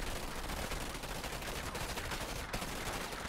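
Dense, continuous gunfire and explosive blasts from a Command & Conquer 3 Tiberium Wars battle, a steady loud barrage of overlapping shots throughout with no pauses.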